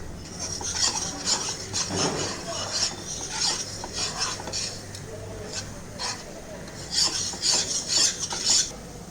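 Flour is stirred into a sauce in a pan for pink sauce pasta, a spoon rasping and scraping against the pan in steady, repeated strokes at close range, with a few sharper scrapes.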